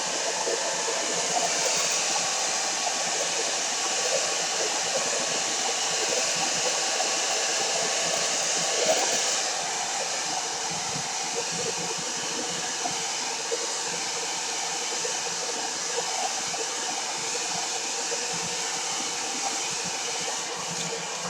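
A hair dryer drying paint on a mixed media craft piece runs as a steady, loud, continuous whooshing roar from start to finish, with a slight shift in tone midway and no talk.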